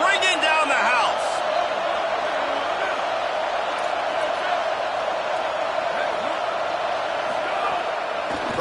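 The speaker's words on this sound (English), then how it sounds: "this crowd is bringing down the house" A packed stadium crowd roars steadily at a Louisville vs Clemson college football game on a big third down, a dense, loud wall of noise sustained throughout with a brief burst of sharper shouts near the start.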